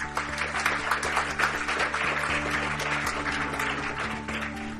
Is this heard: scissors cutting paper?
no